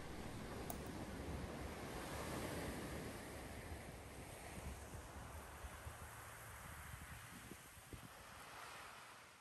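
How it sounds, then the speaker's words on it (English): Waves crashing and washing in and out on Branscombe Beach on a winter's day, a steady broad surf roar mixed with wind buffeting the microphone. "mesmerising watching the waves crashing in and out"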